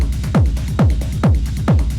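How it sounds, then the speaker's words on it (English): A programmed techno drum loop from FL Studio drives along with four punchy kick drums on a steady beat, each with a pitch-dropping boom. Busy ticking hats and percussion fill the gaps, and the loop is loud and dense throughout. "I already loaded a few drum loops"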